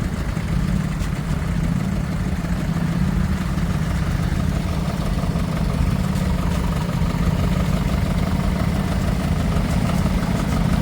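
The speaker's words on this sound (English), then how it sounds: "Being towed by a Ferguson 35 diesel today." A Ferguson 35 diesel tractor engine runs steadily and close, a continuous low throbbing drone with no talk, during a mini tractor run around Holkham Hall.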